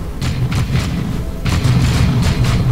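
A frag grenade goes off in Warhammer 40,000: Dawn of War II, a deep booming blast followed by rumbling thuds and scattered impacts under a steady low battlefield roar.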